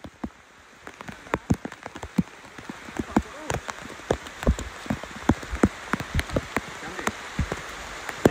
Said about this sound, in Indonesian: Hujan guys. Hujan pun lacor.